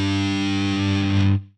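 Two heavily distorted electric guitar notes open a heavy metal riff, fretted on the low sixth string, ringing thick and sustained for over a second before being cut off abruptly, loud and alone.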